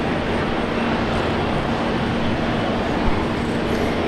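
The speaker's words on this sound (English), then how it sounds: "we've got the E190 taking off" An Embraer E190 jet takes off at Brisbane Airport as a broad, continuous roar of engine noise that stays loud and steady, with no talking over it.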